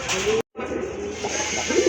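A single male pigeon coos close by in short, low, throaty bursts; the sound cuts out briefly near the start, then continues with faint background noise.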